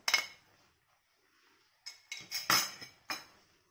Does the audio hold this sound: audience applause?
no